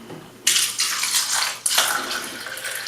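Kangen water, an electrolyzed reduced water, poured into a cup holding a tea bag, a steady splashing stream that briefly breaks and then resumes, close and loud.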